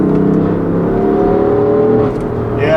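A tuned 2016 BMW M3 with DCT gearbox and mid-pipe pulls at full throttle in third gear as traction control repeatedly cuts in. The engine drones loud and steady from inside the cabin, its pitch wavering slightly and briefly dipping near the end.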